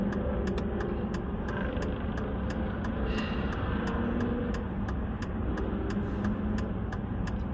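Road traffic passing on a Friday morning in Minot, North Dakota, heard as a steady broad rumble of cars with a faint vehicle swelling past midway, constant and moderately distant, with no talking.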